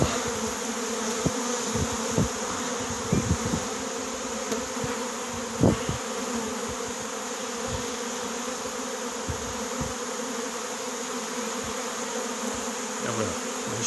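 Steady, dense buzzing of a honeybee swarm at an apiary fills the air, continuous and close, with occasional louder passes of individual bees near the microphone.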